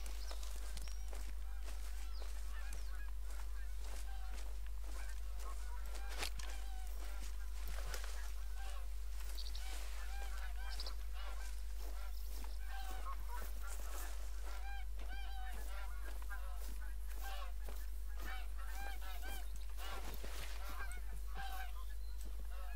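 Geese honk repeatedly from a flock in The Hunter: Call of the Wild hunting game, a dense, continuous chorus of calls that sounds fairly close, with faint footsteps underneath.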